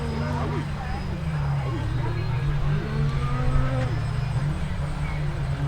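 Ferrari-engined rally car of David Chevalier and Yann Olivier arriving on a Dunes & Marais 2013 rally special stage near Maubeuge, its engine a steady, rising drone throughout, with a commentator talking over it.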